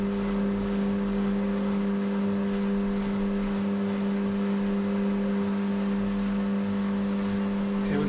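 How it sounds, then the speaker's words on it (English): A Bosch WFK2801 washing machine motor, refurbished, runs with a steady, loud, even drone and a constant low hum throughout a wash cycle, with no speech. "Yeah, the motor's working."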